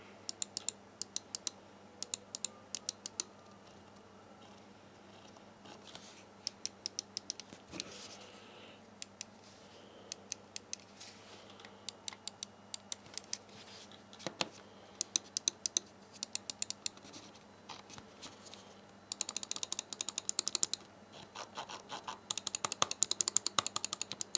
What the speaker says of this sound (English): you should be able to hear me when I'm clicking the buttons